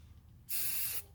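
A single half-second burst of spray paint hisses onto a BMW X5 E70 brake caliper, close and bright, standing out against quiet background noise.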